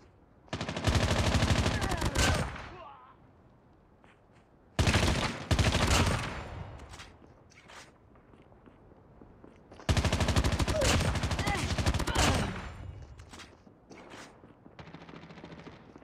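Call of Duty Mobile gunfire in three loud, close automatic bursts of rapid shots, each lasting a couple of seconds and separated by quieter gaps with faint in-game clicks.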